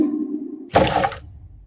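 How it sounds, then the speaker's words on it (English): A single sharp, sudden sneeze bursts out loudly after a stretch of low speech, with a brief rough tail that fades quickly. "I think I shook my teeth a little with that sneeze."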